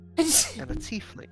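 A single sharp sneeze bursts out near the mic during a tabletop fantasy role-playing session, with people talking around it.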